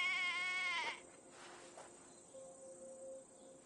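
A sheep in the video game Assassin's Creed Valhalla gives one short, clear bleat, followed by quiet outdoor ambience with faint insect-like chirping.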